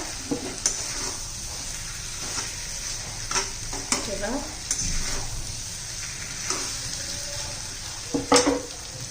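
A spoon scrapes and stirs mixed vegetables through a thick masala in a pan, with soft sizzling underneath and occasional clinks against the vessel.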